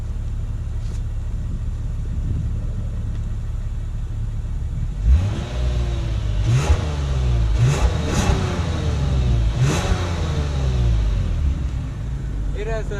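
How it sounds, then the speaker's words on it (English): A 2019 Lexus RC300 AWD with a non-active exhaust idles with a steady low rumble, then is revved in several sharp blips that rise and fall, its exhaust note fairly close and loud throughout. "This car has a pretty good, interesting exhaust sound as well for just a non-active exhaust car."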